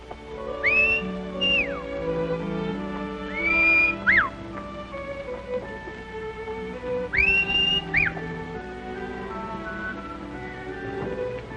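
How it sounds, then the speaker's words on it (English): A melodic whistled tune of rising and falling notes repeats in three separate phrases with pauses between them, clear and close over soft background music. "I could have sworn I recognized that whistle."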